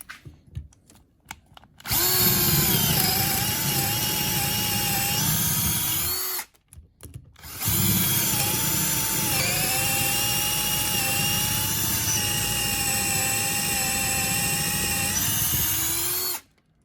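A Bosch Flexiclick 12V cordless drill with a brad point bit whirs at high speed in two long runs, each lasting several seconds, separated by a brief pause, loud and close with a steady whine.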